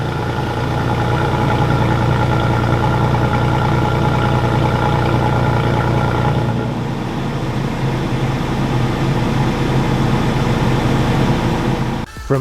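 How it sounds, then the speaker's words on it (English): A Toyota Tacoma SR 4x4 truck engine idles just after a cold start with a loud, steady, close drone. The idle settles slightly lower midway and ends with a brief clunk. "Just started the engine so you can hear what it sounds like."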